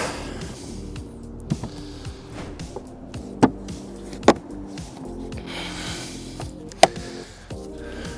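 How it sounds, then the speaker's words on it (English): Plastic clicks and taps as a Dometic RV air conditioner's evaporator cover and ductwork are pressed into place, several sharp snaps spread over a steady low hum with scattered handling noise. "we're going to click our evaporator cover and ductwork back into place"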